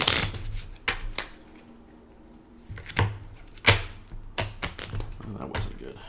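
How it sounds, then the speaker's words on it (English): A deck of playing cards for a plague-themed board game is shuffled by hand several times, giving sharp riffling bursts and soft taps, close and fairly loud, with a quiet pause midway. "Just give it a few good shuffles."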